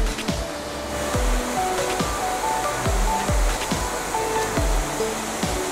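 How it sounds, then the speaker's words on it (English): A mountain river near Shifen Waterfall in Taiwan roars continuously, broadband and loud, with periodic low thumps underneath. "this river just comes straight out the side of the mountain there"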